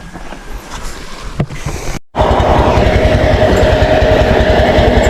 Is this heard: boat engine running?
yes